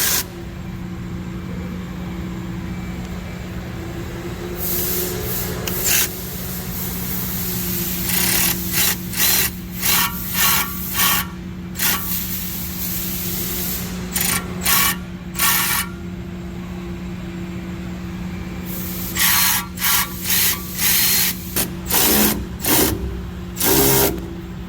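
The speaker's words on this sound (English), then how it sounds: "Now we're just going to go to town with the ratchet, and I'm not using an impact." A hand ratchet turns a spring compressor on a Mercedes W124 400E front spring, ticking in repeated bursts of quick clicks over a steady background hum, close and fairly loud, with short pauses between runs.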